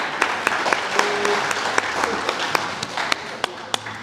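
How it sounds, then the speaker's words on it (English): A round of applause rises at a press conference, a moderate crowd clapping steadily with a few sharp, distinct claps standing out from the wash. "Round of applause."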